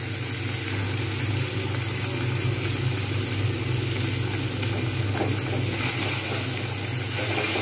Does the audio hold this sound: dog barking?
no